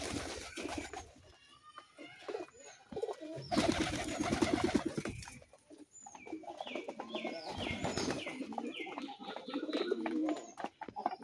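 Pigeons coo repeatedly while feeding in a loft of mostly male birds with one female, soft overlapping calls continuing throughout with a few louder bursts of wing flutter and movement nearby.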